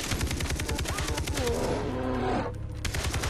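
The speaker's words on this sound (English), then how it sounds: "I'm going to go over here, kindly shoot this bear in the face." Rapid gunfire aimed at a bear in the video game Far Cry 3, a dense run of sharp repeated shots over layered game sounds, with no speech.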